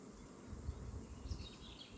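Bees hum steadily near beehives and blooming acacia, a faint continuous outdoor buzz with a low rumble underneath and no talking.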